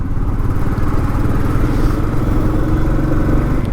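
A Honda Highness motorcycle engine idles and rumbles steadily up close, a continuous low throbbing drone with no pauses.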